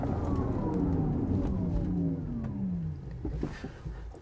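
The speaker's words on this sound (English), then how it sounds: "we're going to go hard on the brakes." A 2022 Porsche Taycan GTS winds down with a falling pitch as it brakes hard, the rumble fading toward the end with some faint road noise.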